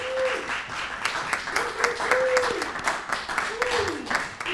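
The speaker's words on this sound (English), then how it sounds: "them a round of applause." Applause from a high school senior recognition audience celebrating graduating students, a steady wash of clapping with tonal sweeps overlaid throughout.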